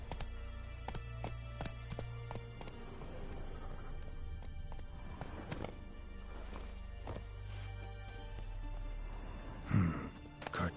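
Roach, a horse in the video game The Witcher 3, gallops with a fast, steady clip-clop of hooves, mid-distance, over a faint game soundscape, ending in a short louder burst.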